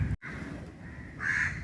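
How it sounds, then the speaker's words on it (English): A single crow caws once at moderate distance in Kadalundi Bird Sanctuary, amid mangroves and backwaters during a boat cruise, heard faintly above a low background rumble. "Here is a crow."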